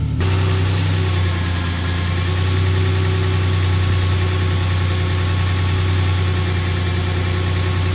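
A Nissan VQ40 V6 car engine with an aftermarket electric fan kit idles steadily up close while still cold, a deep, continuous rumble with a constant vibrating hum and no voices.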